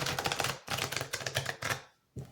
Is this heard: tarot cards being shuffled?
yes